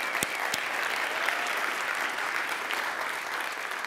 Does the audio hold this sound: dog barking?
no